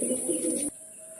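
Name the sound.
grizzle racing pigeon cooing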